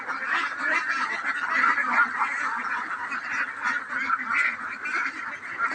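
A flock of ducks on a duck farm quacks and honks in a dense, continuous chorus close by, with many overlapping calls and no pauses.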